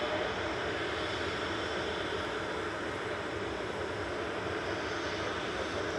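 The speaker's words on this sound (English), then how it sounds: "Qatar flight 21 from Doha coming in" A heavy Qatar Airways jet from Doha arrives at Manchester Airport, a steady broad roar of engine noise that stays fairly faint and distant, with no voices.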